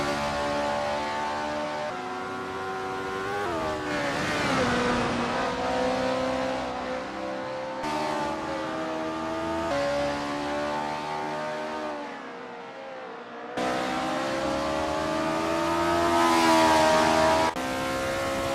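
Honda S800 race cars in the Assetto Corsa sim racing game lap Cadwell Park, their engines droning and revving steadily with rising and falling pitch as cars accelerate and pass, loud and continuous with no talk.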